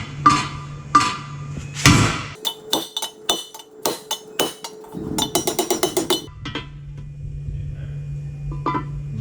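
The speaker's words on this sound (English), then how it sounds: "Big hammer." A big hammer knocking a part back out on a Skoda Yeti 2.0 CR TDI 4x4 by a wheel, dealing a run of sharp metallic blows in uneven bursts, close and loud, with an idling engine hum around it.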